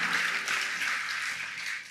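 Congregation applause during an evening prayer service at a church, a steady dense wash of clapping that holds level for the whole stretch and fades slightly at the end, with no voices over it.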